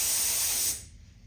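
An airbrush sprays paint for dragon scales in a strong, steady hiss that cuts off sharply partway through, leaving a faint low room hum.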